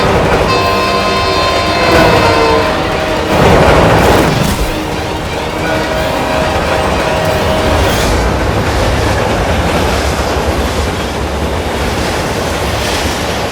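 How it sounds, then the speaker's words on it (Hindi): A train approaches with a loud, steady rumble and rattle that swells around the middle, with a surf-like wash of noise throughout and no voices. "ट्रेन अपनी तरफ आ रही है।"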